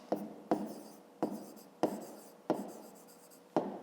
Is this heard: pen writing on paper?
yes